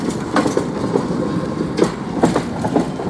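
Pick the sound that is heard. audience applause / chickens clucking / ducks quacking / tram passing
tram passing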